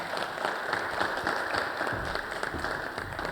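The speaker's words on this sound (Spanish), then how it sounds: "Así que pido que les recibamos con un fuerte aplauso" Audience applause welcoming speakers at a medical myths conference during a forum at a fair, a steady dense wash of clapping that holds even and fairly loud through the whole stretch.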